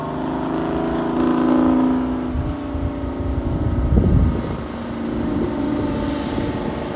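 A GMC 930 truck with a Detroit two-stroke diesel engine and a tall exhaust stack runs steadily nearby, a continuous low droning rumble that swells slightly around the middle, with some wind noise and no talk.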